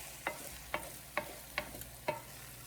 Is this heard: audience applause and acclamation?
no